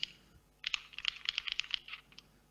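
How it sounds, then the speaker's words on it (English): Rapid clicking of keys on a computer keyboard, a brief burst of irregular taps after a short pause, close and fairly quiet, with no voices. "we all heard typing, which is really irritating"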